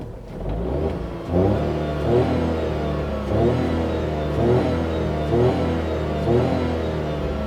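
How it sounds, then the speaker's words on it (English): Close and loud, a Tata Tiago 3-cylinder engine revs in repeated swells, rising and falling in pitch about every second over a steady drone, with no voices. "Nice sound for a 3-cylinder, not that bad actually."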